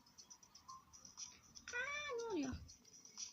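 A house cat gives a single drawn-out meow with a falling pitch, fairly faint, against a quiet indoor background.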